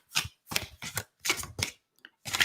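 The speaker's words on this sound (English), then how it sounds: "we'll just give a few more shuffles in this deck" Deck of cards being shuffled in quick riffling bursts, six or seven short crisp flurries in rapid succession, close and clear with no talk.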